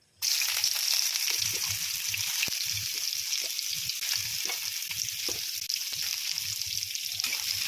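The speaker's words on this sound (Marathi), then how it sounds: "तर आपण आता या तेलामध्ये सोयाबीन आपण छान अशी धुवून घेतलेली आहे आणि पिळून घेतलेली आहे, ती छान अशी तळून घेणार आहोत" Washed, squeezed soybean chunks fry in a small amount of hot oil, a dense, constant sizzle that starts abruptly and stays loud and close, with faint stirring taps underneath.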